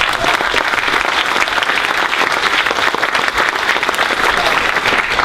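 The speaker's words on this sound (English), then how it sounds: "So I'd like a round of applause for Jeffrey." A conference closing-session audience gives a sustained round of applause, dense and steady from start to finish with no speech over it.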